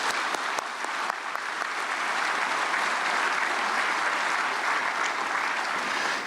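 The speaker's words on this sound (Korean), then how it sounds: "큰 박수로 맞이해 주시기 바랍니다" A hall audience at a prayer meeting for peaceful reunification bursts into loud, dense applause to welcome a guest speaker, the clapping sustained evenly from start to finish with no talk over it.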